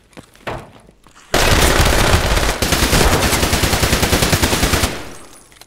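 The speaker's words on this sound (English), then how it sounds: "I was shooting him through the wall" Loud, rapid automatic gunfire in a video game factory fight, with a player shooting at an enemy through a wall. A long, continuous burst of rattling shots starts abruptly and then trails off.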